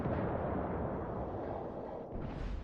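Heavy warship guns in World of Warships roar in a dense, sustained rumble of booming salvos, loud and close for the whole stretch with no talking over it.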